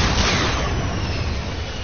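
A rocket launcher in a video game fires with a heavy, booming blast, and a dull rumbling roar fills the whole short stretch at fairly high volume.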